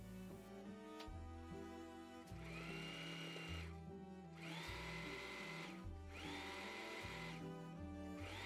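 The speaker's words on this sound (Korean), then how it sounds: "여기 둘레 부분을 쭉 박아줄게요" A sewing machine stitches around the rim of a fleece bucket hat in several quick bursts of rapid mechanical chatter separated by brief pauses, close and fairly quiet, with no talking.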